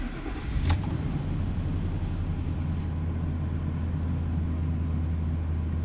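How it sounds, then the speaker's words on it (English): A 2004 Ford Expedition Eddie Bauer with the 5.4 Triton V8 fires on a cold start with a brief crank burst, then settles into a steady, loud low idle drone. "Cold start, people."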